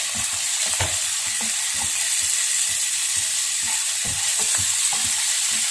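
Small onions and green chilies frying with salt in a pan give a loud, continuous hissing sizzle, with scattered soft stirring scrapes and taps close by.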